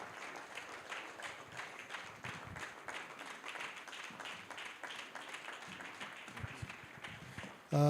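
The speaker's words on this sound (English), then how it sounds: "If you clap, he will come faster." Audience at a Nigerian political campaign gathering claps steadily, a fairly faint, even patter of many hands sustained throughout, cut off abruptly by a louder sound at the very end.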